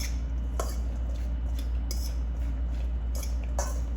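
Okra tossed with vegetable oil, salt and pepper in a bowl gives soft, wet squishing and a few light clinks, spaced irregularly over a steady low hum, close and fairly quiet.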